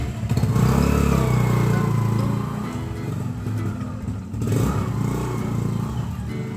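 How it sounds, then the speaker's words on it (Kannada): A Royal Enfield motorcycle engine runs close by with a loud, steady low rumble that swells briefly near the start and again later, with no talking. "ಎನ್ಫೀಲ್ಡ್ ಅದರ ಸೌಂಡ್ ಜಾಸ್ತಿ ಇದೆ"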